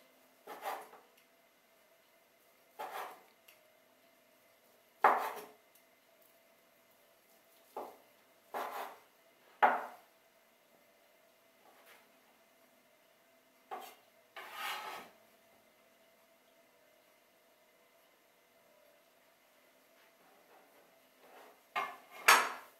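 Meat being cut with a knife on a board while a ramen noodle soup is prepared, giving about a dozen short, separate scraping cuts spaced irregularly, fairly close and moderately loud, with quiet pauses between them and no talk.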